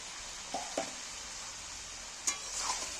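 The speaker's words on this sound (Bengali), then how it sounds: "আলুগুলো একটু এর সাথে নেড়ে চেড়ে নিচ্ছি" Fried potatoes stirred into a simmering jackfruit and meat masala, with a few soft scrapes and clinks of a spoon against the pot over a steady low sizzle.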